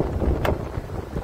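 Wind buffets the microphone during a motorbike ride through city streets in Navi Mumbai, a steady rushing roar close up with a brief sharp gust midway.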